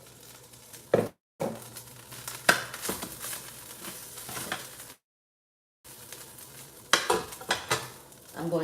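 Rice is tipped into a skillet and stirred, with bursts of sizzling and scraping, rattling utensil sounds, broken by brief silent gaps.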